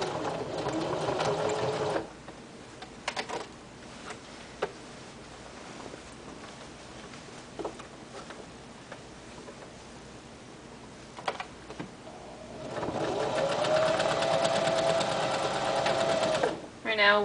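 A sewing machine stitches around the edges of a patch on denim jeans in two loud bursts, one at the start and one near the end, with quiet handling clicks and pauses between.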